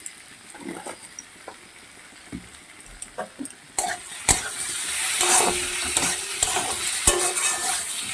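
Potatoes with spices and salt are fried for katla kaliya. Scattered spatula scrapes on the pan open quietly, then a louder, steady sizzle takes over, broken by occasional stirring knocks.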